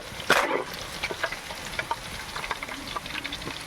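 Pieces of fresh fish frying in a pan give a bright, close sizzle, with a louder burst of crackling near the start that settles into steady spitting and popping; no one speaks.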